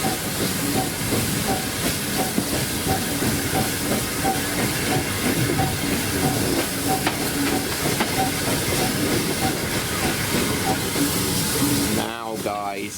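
A steam locomotive on the Kent and East Sussex Railway chuffs and hisses steadily under strain, with rhythmic clanking wheels and a dense rumble, ending in a brief fluttering burst.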